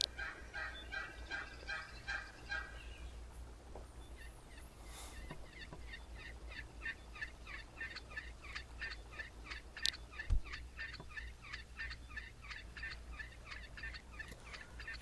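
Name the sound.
ducks quacking in the video game Second Life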